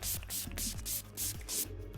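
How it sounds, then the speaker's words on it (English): Urban Decay All Nighter makeup setting spray is misted over the face in about six quick, close hissing bursts, each short and sharp with brief pauses between. "I'm just going to spray it all over."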